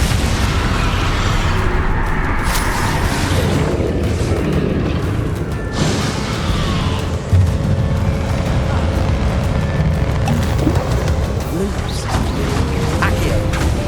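Repeated Confringo spell blasts in Hogwarts Legacy, booming explosive bursts over a dense, loud battle din of rumbling effects with scattered pops throughout.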